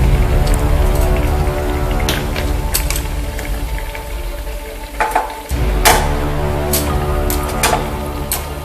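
Malpua batter frying in hot oil, a steady loud crackling sizzle with scattered sharp pops and spatters, briefly dipping then resuming at full strength.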